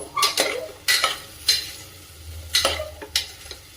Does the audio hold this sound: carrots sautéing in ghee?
yes